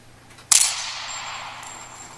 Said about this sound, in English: Now I'll show you my notification sounds.